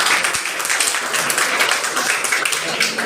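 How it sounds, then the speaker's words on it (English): A crowd at a stand-up comedy show claps in a continuous, even wash of applause, filling the short stretch at a constant level. "Can we give them a round of applause, please?"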